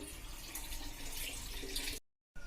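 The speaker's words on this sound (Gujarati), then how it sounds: "હું બધું ફિલ્ટરના પાણીથી માટલું આખું ભરી લઉં છું." Filtered water pours steadily from a tap into a clay pot, a continuous splashing rush that cuts off abruptly near the end.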